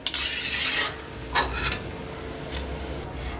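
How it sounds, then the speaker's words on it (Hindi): Crispy fried cabbage manchurian balls are handled and pressed, giving a few dry crunching, rasping bursts with pauses between them, close up and alone without talk. "ये देखिए कितने क्रिस्पी है, इसकी आवाज सुनिए"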